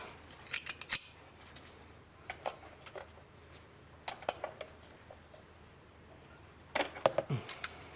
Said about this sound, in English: I'm also gonna open this cover, the oil filler cap.